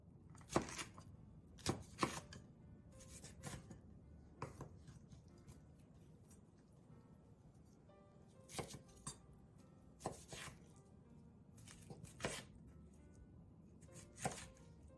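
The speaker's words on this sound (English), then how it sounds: "Cut it into slightly larger bite-sized pieces." Sharp knife chops through cabbage onto a cutting board in scattered bursts of two or three, close and crisp, with quiet pauses between.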